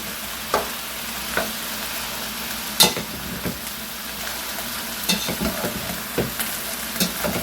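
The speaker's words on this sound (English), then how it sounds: "Stir this around. Let it cook down." Pasta sauce with veggies and sausage sizzling in a pot while it is stirred, a steady fry with a series of sharp spoon scrapes and knocks, close and with no talk.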